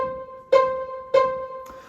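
Two bright plucked harpsichord notes ring out about half a second apart, each with a sharp attack and a quick, buzzy decay.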